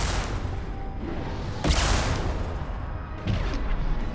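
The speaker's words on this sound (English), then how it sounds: "Firing an impact shot." An impact shot fired in the video game Mass Effect 2, heavy booming blasts against a rumbling background, with one sharp loud discharge midway and a weaker report near the end.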